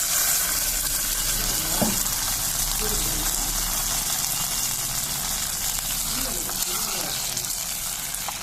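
Coriander and curry leaves sizzle in hot oil for a tempering for jowar khichdi, a steady loud hiss of frying that continues without a break and with no talking.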